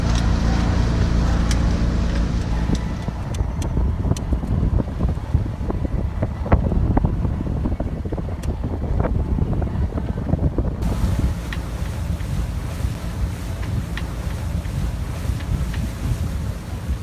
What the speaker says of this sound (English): The sails will flap in a second.